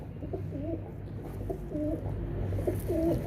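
Soft, repeated cooing of a pigeon, several rolling coos in a row over a low background hum.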